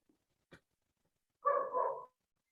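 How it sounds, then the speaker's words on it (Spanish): Several small dogs bark in the background, a faint click followed by one muffled, drawn-out double bark at moderate distance, otherwise quiet. "están haciendo mucho ruido los perritos"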